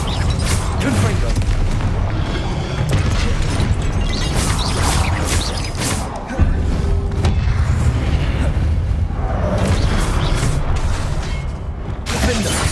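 A Confringo fire spell explodes in Hogwarts Legacy amid a loud, dense battle. Booming blasts and crashes come over a continuous roar of combat noise, with a sharp hit around the middle.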